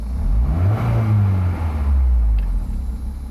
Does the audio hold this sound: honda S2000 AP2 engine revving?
yes